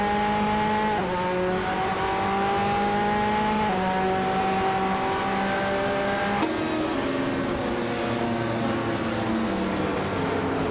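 Race cars in a racing video game, including a 2016 Nissan, engines revving and upshifting with pitch climbing then dropping at each gear change, a loud, continuous whine of several cars close together.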